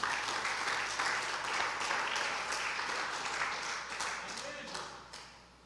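A church congregation applauds during a sermon on the crucifixion of Jesus, a dense, steady wash of clapping that holds for several seconds and then tapers off at the end, with a voice faintly over it.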